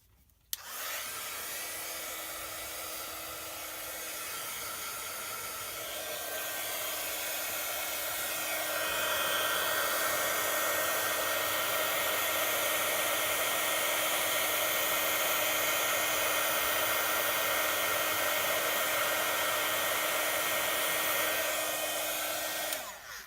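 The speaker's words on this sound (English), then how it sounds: "And then I shall get my heat gun. So you might want to turn down the volume." Heat gun used for heat embossing silver powder on a papercraft tea light box, a loud, steady blowing whir that runs on its own for over twenty seconds, growing slightly stronger partway through before clicking off.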